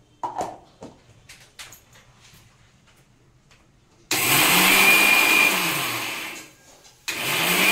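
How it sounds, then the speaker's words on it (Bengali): An electric mixer grinder pulverizes spices for jujube pickle: after a few soft clicks and handling noises, it roars into a loud, close whirring burst lasting about two seconds, then starts again briefly. "মশলাটা এখন গুঁড়ো করব মিক্সিতে।"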